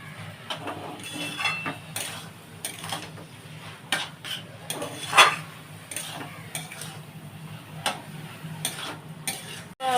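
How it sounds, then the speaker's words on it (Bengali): Spinach greens cooked with cream stirred in a pan, a series of close scraping, clattering spatula strokes over a soft frying sizzle, irregular in rhythm with one sharper knock midway. "আচ্ছা, এবার আমি নাড়বো বন্ধুরা এটা।"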